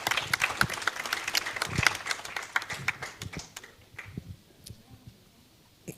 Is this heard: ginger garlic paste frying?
no